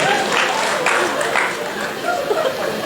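Audience applause at a Hindi poetry recital (kavi sammelan), with steady clapping running the whole time alongside crowd chatter and a bit of laughter.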